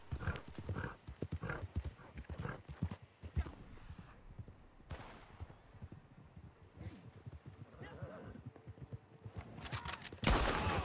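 A video game plays rapid galloping horse hooves in continuous clip-clop rhythm, with a neigh and some gunfire-like cracks mixed in, fairly faint overall.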